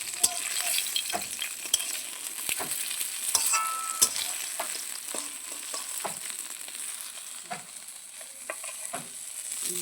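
Pieces of fish, likely bhola fish, fry in hot oil with a steady close sizzle broken by sharp crackles and small scraping taps of a utensil throughout.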